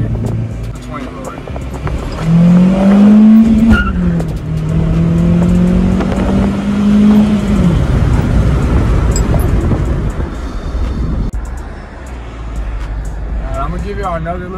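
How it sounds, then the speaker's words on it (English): Car accelerating hard in first gear along a short road, its engine note climbing loud and strained and then easing off, with a voice talking over it. "I'm gonna give you guys a little first gear pull"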